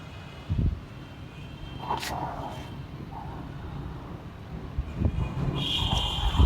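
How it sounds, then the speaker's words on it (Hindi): Strong gusty wind roars steadily through a cold, rainy Ramadan afternoon, with louder blustery surges rising and falling over a constant rushing background and a few brief scattered knocks. "हवा चल रही बहुत तेज।"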